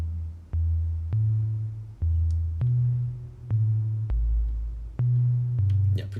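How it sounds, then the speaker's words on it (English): Modular synth bass line from a Dixie 2 oscillator: clean, pure sine-like notes stepping through a simple sequence, about a dozen sustained pitches each with a sharp click at onset, fairly quiet and alone. "So next up we have the Dixie 2 here. So that's being our bass line."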